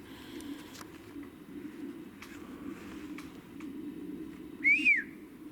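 A single rising-and-falling whistled bird call sounds near the end in woodland, clear but moderately distant over a quiet rustling background, with a few faint clicks earlier and no speech.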